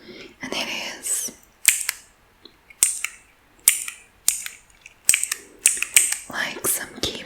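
A pink fidget toy with keyboard-style buttons gives sharp, crisp clicks, close and loud, in an uneven rhythm of a dozen or so presses with soft handling noise between.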